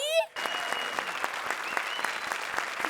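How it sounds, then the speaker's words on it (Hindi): Loud studio audience applause on a Hindi television comedy show, a dense steady burst of clapping that starts abruptly after a brief moment of voice and holds at full strength to the end. "जोरदार तालियां सलोनी, राजीव और स्मिता के लिए।"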